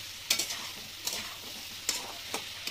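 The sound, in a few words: stirring cucumber and fish curry frying in a pan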